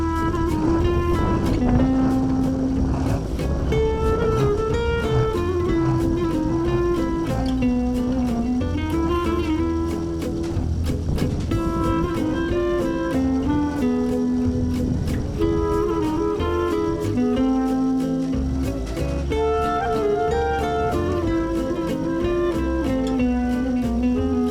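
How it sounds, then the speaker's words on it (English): A battery powered snowblower clearing snow from a roof, a steady loud motor whine with a wavering pitch that runs continuously for the whole stretch, heard up close. "See here how it takes a fair amount of effort to push this blower ahead."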